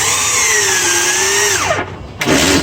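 A power drill drives a screw into a sukkah wall brace, its motor whining steadily up close, dropping in pitch as the screw bites, pausing briefly, then revving again.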